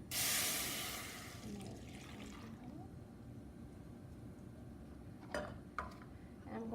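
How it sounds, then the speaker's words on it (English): A pineapple, vinegar and soy sauce mixture for Hawaiian meatballs is poured into a pan, giving a brief loud liquid splash at the start that fades into a quiet kitchen background, with a couple of small knocks later. "I'm going to pour this into the pan."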